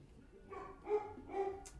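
A dog gives a few short, moderately distant barks and yips in quick succession.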